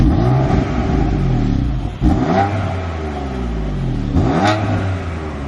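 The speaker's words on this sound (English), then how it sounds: "this is what my car sounds like currently stock" A BMW F80 M3 engine with stock exhaust revs up and down repeatedly, rising and falling in pitch with a fairly smooth, mild exhaust tone, close and loud.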